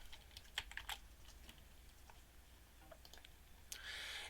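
Keystrokes on a computer keyboard while entering PHP code, a few scattered clicks and short bursts, fairly quiet and close, ending in a brief faster run of keys; no talking.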